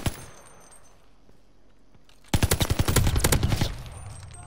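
Rapid automatic gunfire erupts loud and close at a Hardpoint objective in a video game, a dense burst of repeated shots lasting over a second after a quieter stretch of ambient game noise.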